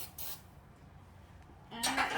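Cooking spray hisses onto a cookie pan in a home kitchen while Halloween cookies are being made: a faint short burst early on, then a louder, closer spray near the end, with no talk.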